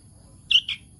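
A hand-raised fledgling bird gives two short, high chirps in quick succession, close by and fairly clear over a quiet indoor background, with no talking.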